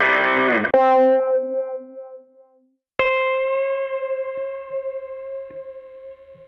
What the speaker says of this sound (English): Browse, sample assign, and set up our wavy guitar.